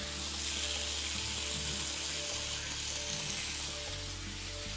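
Vegetables sautéing in hot oil in a single pot, a steady close sizzle and crackle with faint stirring scrapes, continuous with no talk.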